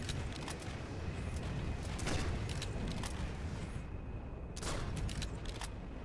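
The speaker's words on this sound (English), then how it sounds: "I just emptied my TRV into him." Repeated gunfire from a TRV weapon in a first-person shooter match, dense bursts of shots continuing nearly throughout under a steady battlefield din, with a louder burst near the middle.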